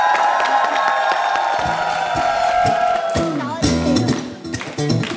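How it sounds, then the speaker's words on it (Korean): A TV studio audience cheers and whoops loudly over a sustained musical tone before a performance, with excited voices shouting near the end. "그 전에 큰 박수가 필요합니다!"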